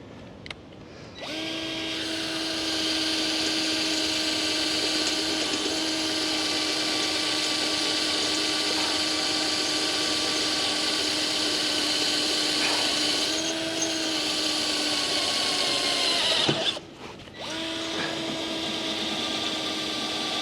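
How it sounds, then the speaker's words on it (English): A power drill whines steadily at a high pitch for a long stretch, drilling through both sides of a metal tube frame with 1/4 and 3/8 inch bits, dipping briefly before cutting out and starting again. "The instructions say to drill first with a 1/4 inch bit, and then a second time with a 3/8 bit."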